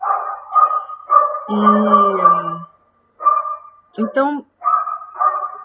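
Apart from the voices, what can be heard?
dogs barking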